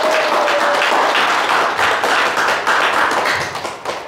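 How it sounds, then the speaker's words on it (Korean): Congratulatory applause from an audience at a lecture hall talk in Daejeon, a dense, steady wash of many hands clapping that runs the full length and tapers slightly near the end. "축하의 박수 부탁드립니다."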